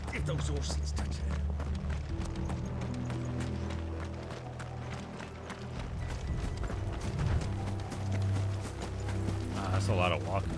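Hooves clop in a steady rhythmic trot alongside mechanical creaks and rattles in Final Fantasy 16, with voices talking over the sound.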